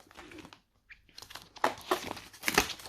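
Paper 5 euro banknotes being handled and slipped into a paper envelope, close, quiet crinkling and rustling in several short bursts with brief pauses between them.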